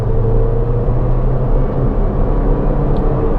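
Fiat Fastback with a 185 hp engine pulling hard under acceleration, a steady loud interior rumble and engine drone that holds constant throughout with no talking.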